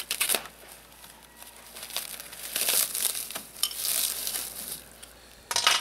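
Crinkly plastic wrapping on a bonsai transplant kit is cut open with scissors, giving a steady run of close rustling and crackling with a louder burst at the end.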